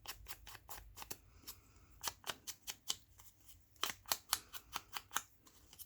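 Decollage paper trimmer cutting faux postage stamps from paper, a series of crisp, sharp snipping clicks in an irregular rhythm, close and clear with no talk.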